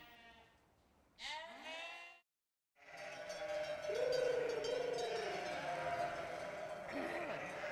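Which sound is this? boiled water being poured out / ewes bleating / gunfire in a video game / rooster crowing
ewes bleating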